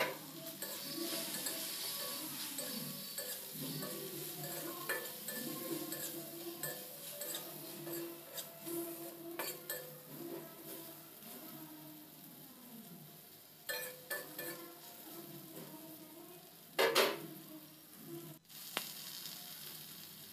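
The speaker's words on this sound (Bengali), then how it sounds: "এখন জল দেব না, জল ছাড়াই মশলাটা কষিয়ে নেব" Spice paste of cumin, ginger and Kashmiri chili powder stir-fried without water for an egg tok curry, sizzling quietly in a pan with repeated scraping and clinking of a spatula against metal, plus a couple of louder knocks.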